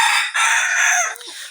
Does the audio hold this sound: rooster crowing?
yes